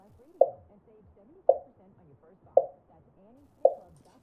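A floor tom drum track, filtered to a narrow mid-range band, plays four hollow, boxy hits at steady intervals of about one second, each decaying quickly into quiet.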